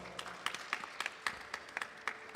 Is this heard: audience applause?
yes